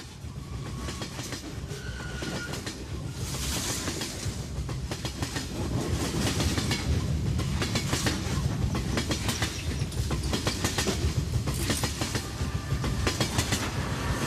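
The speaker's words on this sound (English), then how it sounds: "After 14 hours of riding the train from Gurmu to here Lhasa" A train on the Golmud to Lhasa railway in Tibet rolls steadily along the rails, wheels clacking in a continuous rhythm with a constant rumble, loud and close, no voices.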